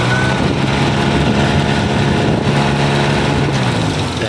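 A car's radiator cooling fan whirs steadily alongside the idling engine, a loud continuous drone with a low rumble throughout, close by and without talk.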